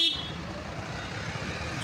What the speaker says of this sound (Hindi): ट्रैफिक जैम चेक करो गाइस